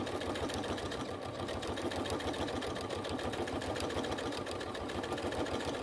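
A sewing machine runs steadily, stitching across thick pleather in crazy patchwork, its fast needle chatter constant and close throughout, with a couple of missed stitches as it strains over the thickness.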